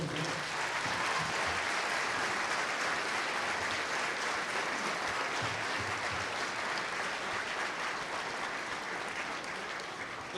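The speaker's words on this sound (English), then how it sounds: "I'd like to put a round of applause here for Clonmore for the sporting team." Crowd applauding a junior football club team after a final, a continuous even wash of clapping lasting about ten seconds, moderately loud with no voices over it.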